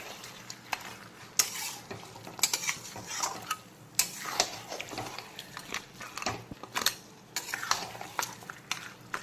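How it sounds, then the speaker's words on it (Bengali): Rice being stir-fried in a pan with spices and pieces of fried fish head, a busy scraping and clinking of a spatula against metal with a soft sizzle underneath, steady and close, with no talking. "এখন চালটাকে 2-3 মিনিট সময় নিয়ে মশলার সঙ্গে আর ভেজে রাখা মাছের মাথার সঙ্গে এইভাবে খুব ভালো করে প্রথমে একটু কষিয়ে নেব আবারও।"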